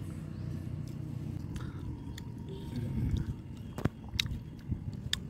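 Cut fruit salad with banana and papaya being eaten close up, with steady chewing and a few sharp bites over an outdoor campus background rumble.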